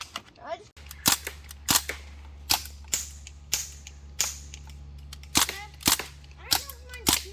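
An Umarex BB gun fires in a quick run of sharp snapping pops, about a dozen shots at a fairly regular pace over a low steady hum, with voices talking in between.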